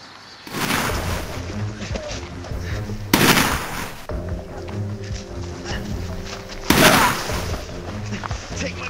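Gunfire in a short film shootout, a few sharp loud shots spaced apart over a background of rumbling and movement.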